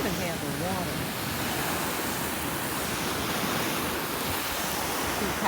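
A garden hose sprays water in a steady, loud hiss over a garden table, with a voice faintly under the constant rush.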